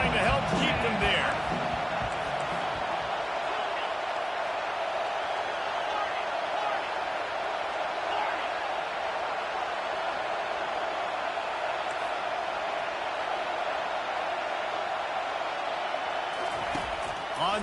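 A stadium crowd at a Florida vs Michigan college football game roars in a steady, broad wall of noise, trying to keep the offense pinned deep, with louder bursts at the start and end.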